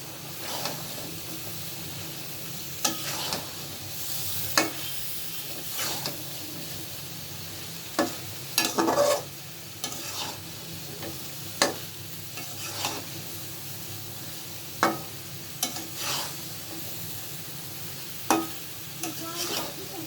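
Drumstick pods and leafy greens sautéing in spiced mustard paste, with a low constant sizzle broken by intermittent clattering scrapes and stirs of a spatula against the pan, close up and without talk.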